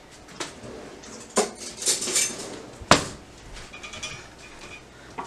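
A spoon clinks and scrapes against a dish while chipotle lime vinaigrette is mixed with freshly squeezed juice, giving a few sharp, close metallic taps scattered among softer scraping, with no talking.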